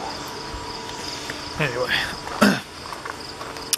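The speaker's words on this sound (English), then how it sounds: "There's crickets everywhere, too." Crickets chirp outdoors as a steady high drone in the background, with a person speaking briefly over it and a few short nearby sounds.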